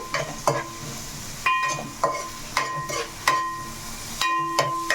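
Onions frying and being stirred in a pan for chicken curry, with a steady soft sizzle under repeated sharp scrapes and clinks of a utensil against the pan.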